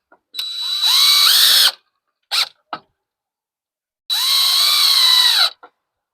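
Screws go into makeshift garage-sale tables with a power drill: two long, loud whining runs, each a couple of seconds, with a few quick trigger blips between and after.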